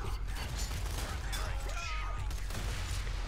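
A shotgun fires in the first-person shooter Borderlands 2, sharp blasts and mechanical clacks amid busy game effects and sweeping whistles over a constant low rumble.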